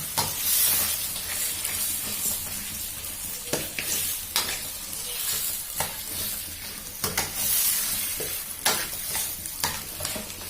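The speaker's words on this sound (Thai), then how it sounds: "เราก็จะใช้ตัวตะหลิวนะคะ ช่วยช่วยบีบตัวมะเขือเทศค่ะ" Tomatoes fry in a pan for a Thai khanom jeen nam ngiao broth while a spatula presses and stirs them. The loud, steady sizzle and hiss is punctuated by repeated scraping strokes.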